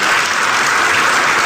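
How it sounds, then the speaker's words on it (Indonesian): A church audience claps in dense, continuous applause, loud and close for a short burst with no voices on top. "Tepuk tangan dong."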